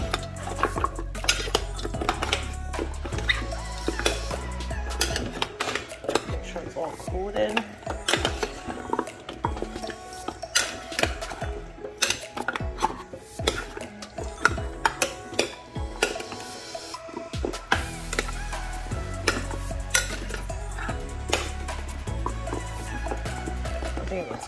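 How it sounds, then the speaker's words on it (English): A utensil scrapes and clinks against a dish as garlic chili sauce is stirred into food, an irregular run of close metallic scrapes and taps, with a voice talking at times. "I'm gonna mix this."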